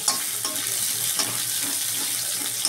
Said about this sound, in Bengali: পেঁয়াজ দিয়ে দিলাম। এটাকে জাস্ট একটুখানি ফ্রাই করে নেব।